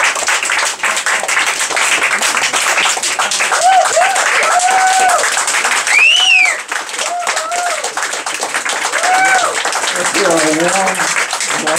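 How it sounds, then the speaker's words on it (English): At a poetry reading, the audience gives a warm round of applause for poet Anthony, a continuous wash of clapping with a voice talking over it throughout. "A warm applause for Anthony and his philosophical, existential view of the world."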